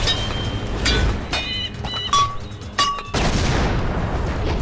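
A blast from a Bhojpuri film scene: a sharp boom opens the clip, followed by crackling debris and ringing tones, then another heavy burst of broadband rumble near the end.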